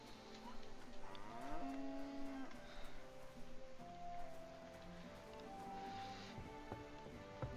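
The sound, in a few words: cow mooing in video game Kingdom Come Deliverance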